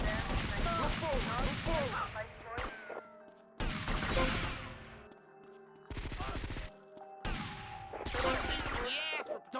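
Bursts of gunfire from GTA Vice City come in several loud clusters broken by short gaps, with game dialogue and effects mixed in.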